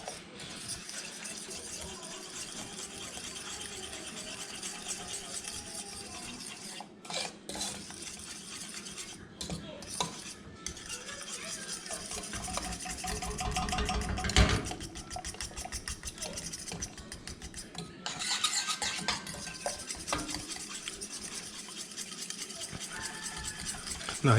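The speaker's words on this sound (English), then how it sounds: "while this is on low heat, just gonna stir all this goodness together" Food stirred in a pot on low heat in a home kitchen, a steady low simmering hiss with scattered scrapes and clinks of a utensil against the pot, fairly quiet throughout.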